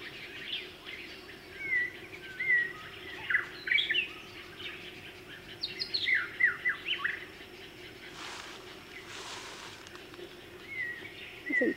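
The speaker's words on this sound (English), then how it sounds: "we got a pretty song of another bird over here somewhere" Birds sing outdoors in Hawaii, repeated short chirps and warbled phrases at moderate distance over quiet ambient hiss, with a couple of brief broadband rustles midway.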